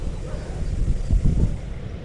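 Wind gusts over a rice paddy, rumbling low and steady as buffeting against the microphone and swelling briefly in the middle, with no clear speech.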